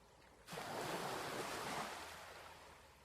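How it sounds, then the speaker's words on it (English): Sea waves roll in beneath the end of a fairground pier over the water, a broad surf swell that rises suddenly, holds steady, then slowly eases, with wind noise throughout. "so she can hear the rolling sea rolling in under the end of the fairground"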